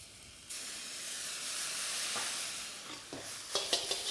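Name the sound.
noodles being stir-fried in a wok with a spoon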